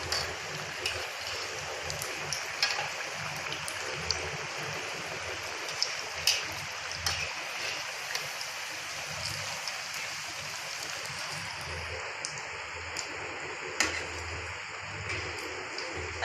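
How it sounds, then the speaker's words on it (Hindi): Potato donuts frying in oil over a medium flame, a continuous soft sizzle and bubbling with scattered small pops and crackles, close and steady, no talking. "अब हम इन्हें फ्राई करते हैं।"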